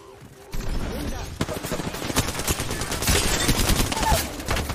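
Rapid gunfire from Apex Legends rattles in dense bursts after a brief quiet start, loud and close, building toward the end with faint voices mixed underneath.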